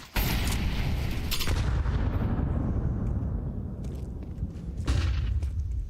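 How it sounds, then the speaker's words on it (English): A grenade detonates in a Counter-Strike match at the IEM Krakow LAN event, a loud boom with a low rumbling tail followed by a few sharper bursts of in-game gunfire. "Good nade onto Donk just to open up this round"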